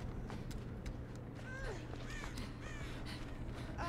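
Crows caw several times in quick succession in the video game Dead by Daylight, fairly faint over a low steady background rumble.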